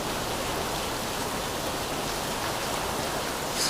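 Rain falling outdoors in Florida, a dense, steady hiss of heavy rainfall on surfaces, close and continuous, with no voices.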